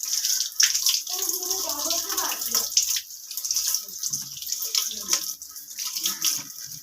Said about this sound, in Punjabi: ਤੇ ਅਮਰੂਦ ਵੀ ਧੋ ਲੈਂਦੇ ਆ।